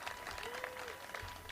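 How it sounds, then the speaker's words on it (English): Brief, distant applause from an audience at a Pride flag raising at Fresno City Hall, a soft wash of clapping heard faintly for a moment. "Let's give Ryan a round of applause."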